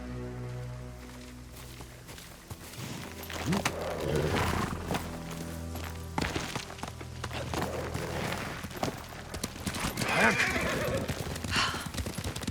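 A horse in the video game Ghost of Tsushima whinnies and clip-clops along at a steady gait, set against a continuous musical and ambient game score.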